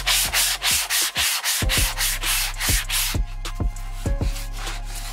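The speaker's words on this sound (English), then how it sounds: "I did lower the volume on the sanding, but this is how it would have sounded if I did not." Sandpaper rubbing over a gesso-coated store-bought canvas, with loud, steady back-and-forth strokes in a quick rhythm. The passes become lighter and more clipped in the second half.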